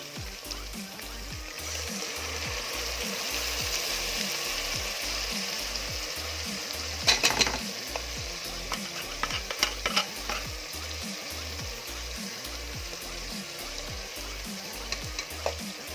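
Ham, garlic, onion and canned tuna in oil sizzle steadily in a pan with occasional stirring clinks and scrapes, a continuous close frying hiss with no talk.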